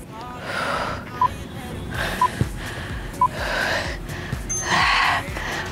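Heavy, gasping breaths out after bicep curls in a no-gym home workout, several loud rhythmic exhales close to the microphone with brief sharp catches between them.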